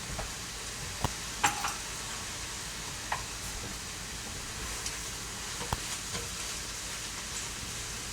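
Thai-style green beans and potato fry in a hot pan, giving a steady soft sizzle broken by a few faint pops and ticks, with no talking.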